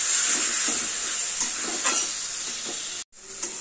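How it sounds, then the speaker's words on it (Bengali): Taro leaves sizzling and being stirred in a pan, a steady frying hiss with soft scraping strokes, then a brief cut near the end. "এবার কচু শাকটাকে ভালো করে ভাজা ভাজা করতে হবে।"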